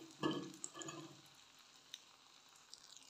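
Breakfast food frying and sizzling in a pan, with a soft stir or scrape near the start and a steady quiet sizzle continuing, alone without talk.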